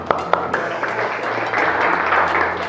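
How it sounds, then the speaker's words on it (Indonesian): Classroom applause rises after a maths lesson, a steady wash of students clapping with a few sharper claps near the start, mixed with murmuring voices throughout. "Tepuk tangan buat kita semua dulu ya"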